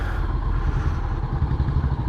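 Motorcycle engine running and pulling away as the bike sets off, a steady loud low rumble with slight rattling, close and continuous with no talk.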